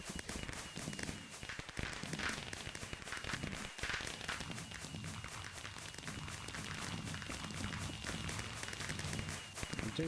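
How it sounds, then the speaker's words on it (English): A long barrage of fireworks goes off in a Minecraft game (Stoneblock 2 modpack), rapid crackling pops and bangs overlapping densely for ten seconds at steady loudness. "that's a load of fireworks."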